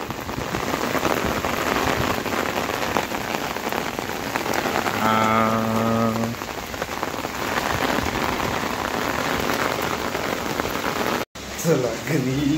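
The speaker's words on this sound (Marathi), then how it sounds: "पाऊस पाऊस पाऊस." A sudden heavy downpour roars steadily and loudly at close range, drumming on surfaces without pause, while a voice briefly sings a drawn-out tone partway through.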